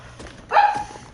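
A jumpy pet dog in a basement lets out a single sharp, close bark that rings briefly and fades, with quieter household noise before it.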